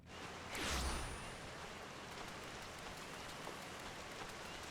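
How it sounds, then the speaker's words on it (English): Heavy rain falls in Final Fantasy XIV, a dense, constant hiss of drops with a brief louder swell near the start and no voices. "I am somewhat regretting turning on ambient sounds now that it's raining so heavily"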